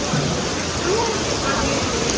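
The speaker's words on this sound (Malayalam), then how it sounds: "പൊരിഞ്ഞ മഴ, പെരുമഴ എന്ന് പറഞ്ഞാൽ പെരുമഴ" Heavy rain pours down outdoors in a dense, steady roar that stays loud and unbroken from start to finish, heard up close.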